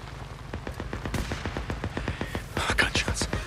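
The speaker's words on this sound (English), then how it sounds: "Gunshots. What the hell?" Rapid bursts of gunfire crack in a steady, repeating rhythm in the video game Days Gone, dense and fairly close, with a louder flurry of shots near the end.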